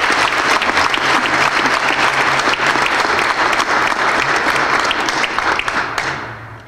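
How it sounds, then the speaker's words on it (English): Loud, sustained applause from a crowd at a city inaugural celebration in Lewiston, dense continuous clapping close by that tapers off in the final moment. "Please join me in another round of applause as an expression of gratitude for our outgoing mayor"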